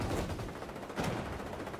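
Two shots from a double-barrel shotgun in the video game XDefiant, heard as dense, fairly loud blasts over a continuous busy game soundscape.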